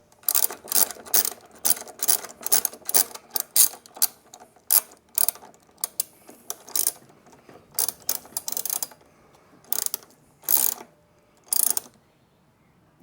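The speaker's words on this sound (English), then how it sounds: "You just pop that in there, and it just screws in like this." A JoyTutus Jeep door mirror mount is screwed in by hand, producing a long series of quick ratcheting clicks close to the mic, with steady bursts at first and then sparser clicks toward the end.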